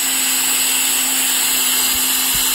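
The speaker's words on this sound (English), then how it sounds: "go straight up and down and drill another hole into this side." A steady, high-pitched motor whine runs continuously, like a power drill boring through material during an OBO Hi Control tongue repair, loud and close with no talking.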